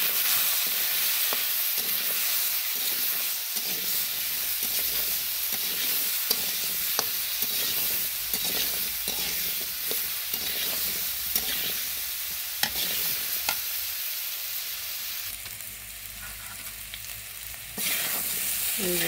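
Turmeric, chili powder and green chilies fry in hot oil while a spoon scrapes and stirs the pan in a steady, repeated rhythm over a continuous sizzle, close and alone without voices.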